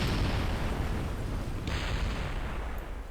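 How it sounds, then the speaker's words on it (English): A dense, continuous rumbling roar of game explosions fills the scene, loud and unbroken, with a brighter hissing layer joining partway through. "Explosions."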